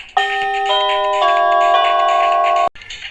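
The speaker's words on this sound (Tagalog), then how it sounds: "Check the operation of the wireless doorbell." A plug-in wireless doorbell chime plays a clear, close four-note ding-dong melody, each tone ringing on before cutting off abruptly, alone in a quiet room.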